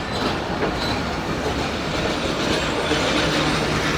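The Rehman Baba Express passenger train passes through a dark station platform at a busy Karachi junction, a loud, steady rumble and clatter of wheels on rails continuing throughout, with no voices.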